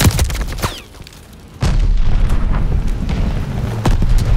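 Explosions from a bomber airstrike in the video game Call of Duty: Vanguard, team deathmatch on PS5: a loud deep boom at about 1.6 seconds swells into a sustained rumbling roar, with further blasts layered near the end.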